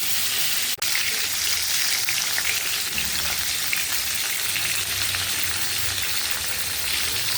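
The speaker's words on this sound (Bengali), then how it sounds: "পটলটা ভাজা হয়ে গেছে।" Pointed gourd (potol) pieces frying in oil in a pan, a steady close sizzle with fine crackling running evenly throughout, with one brief click early on.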